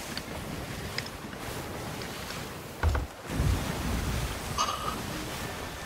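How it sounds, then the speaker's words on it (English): A sailing ship rides stormy seas in the game Sea of Thieves, with continuous wind rush and surging waves, a heavy thud near the middle, and the noise holding loud throughout. "Getting a little out of this storm, if at all possible."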